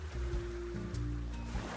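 Ocean waves washing in a steady roar, a close, full rushing of surf with a low tonal hum running underneath, no voices.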